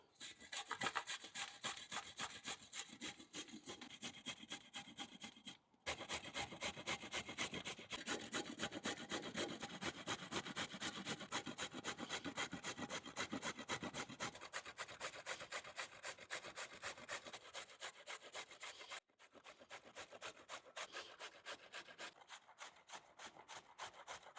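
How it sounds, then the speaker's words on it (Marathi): Raw turmeric root is grated by hand in quick, even rasping strokes that keep a fast rhythm, broken by two short pauses, with no talking. "आपण आता हळद किसून घेऊ"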